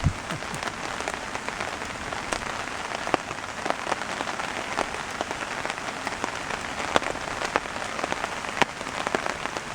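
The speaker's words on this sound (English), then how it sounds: "Oh my, it's hailing now." Hail patters densely and steadily onto a hard surface in Algonquin Park, with sharper individual ticks standing out from the constant clatter.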